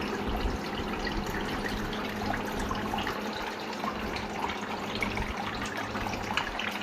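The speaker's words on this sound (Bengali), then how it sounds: "পাম্প অপশনে আসলে কী হবে সমস্ত যে হানিকম প্যাডগুলো চারপাশে সরানো আছে সেগুলো জলে ভিজবে এবং আপনারা টের পাচ্ছেন জল যাচ্ছে" A household water cooler's pump runs and wets the honeycomb pads, giving a steady, continuous gush of trickling water at an even level throughout, with no voices.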